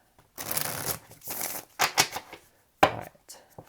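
Tarot cards shuffled in several bursts of riffling and slapping, close and fairly quiet, with short pauses between handfuls and no talking.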